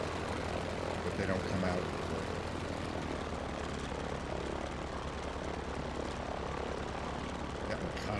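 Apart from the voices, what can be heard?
loud aircraft engine in flight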